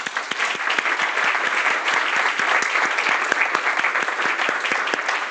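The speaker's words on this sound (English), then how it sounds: "a big applause for you all" An audience applauds at an anniversary event for an AI schools programme, a dense, steady wash of many hands clapping together throughout.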